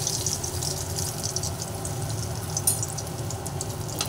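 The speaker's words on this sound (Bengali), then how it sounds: "বাদ বাকিগুলোকেও এক এক করে সুন্দর করে তেলের মধ্যে দিয়ে দিলাম।" Soybean kofta balls fry in hot oil over a medium gas flame, giving a steady, soft bubbling sizzle with a constant hiss throughout and no talking.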